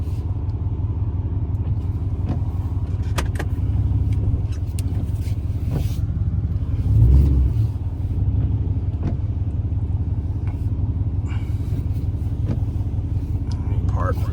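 A Chrysler 300C Hemi driving at low speed before parking, a steady low engine drone inside the cabin with a brief swell of revs midway, faint background noise and no talk.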